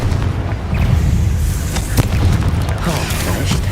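A low, rumbling blast from the Confringo fire spell in Hogwarts Legacy, with dense, continuous booming and crackling debris that fill the whole stretch at steady loudness.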